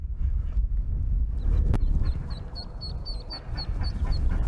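Mallard ducks quack repeatedly over rustling and low rumbling noise, with thin high peeping calls of mallard chicks chirping in a rapid series.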